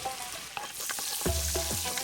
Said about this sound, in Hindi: जब वो गर्म हो जाए तो डालेंगे थोड़े खड़े गरम मसाले।